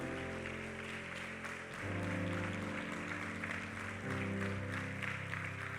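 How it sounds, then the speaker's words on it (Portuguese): Church congregation applauding together during a worship service, steady clapping that swells in two waves alongside sustained music in the room, moderately loud and continuous. "Dê um aplauso ao Senhor nesta hora."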